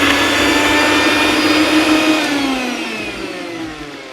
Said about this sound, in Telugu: మిక్సీ చేసుకుని